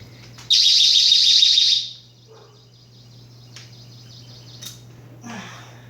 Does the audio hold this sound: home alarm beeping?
yes